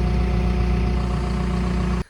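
A tractor engine runs loud and close as it drives off, holding a steady low droning rumble before cutting off abruptly near the end.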